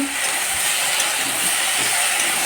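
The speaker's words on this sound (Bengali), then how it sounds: "ফুলকপি আলু কষানো হচ্ছে" Cauliflower and potato sauté in a pan in a home kitchen, giving a loud, steady, dense hiss and sizzle with no break.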